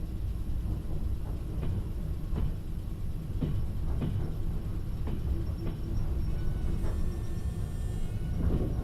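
A train passes in a Soviet train-driving video game, a steady low rumble with periodic clacks of wheels over rail joints, moderately loud and continuous with no voices.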